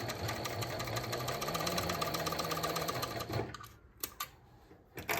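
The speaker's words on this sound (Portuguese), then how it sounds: "Vou costurar um pouquinho" A sewing machine stitches fabric while a bias binder attachment folds a strip for underwear, running steadily and close for about three seconds before stopping, with a few short bursts and handling noises after.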